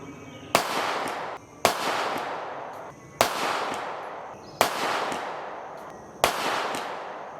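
Five evenly spaced pistol shots, 124 grain Gold Dot rounds fired from a Flux Defense Raider at 25 yards, each sharp crack followed by a short ringing decay, with no talking.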